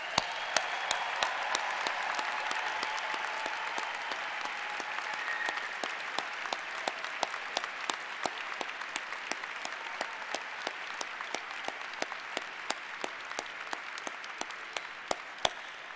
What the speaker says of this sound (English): Let's give all of the candidates for a degree another round of applause.